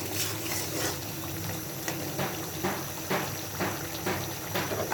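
Broiler chicken simmering in its own spices with cardamom and cinnamon and no added water, a steady close bubbling and sizzling hiss with faint pops throughout.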